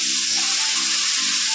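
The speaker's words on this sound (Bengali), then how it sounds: "এখানে ভাজা করছি দেখো বিট" Beetroot and carrot fry in a pan with a loud, continuous hissing sizzle, close and unbroken, with a low hum beneath and no voices.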